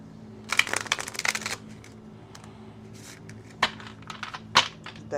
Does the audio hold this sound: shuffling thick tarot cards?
yes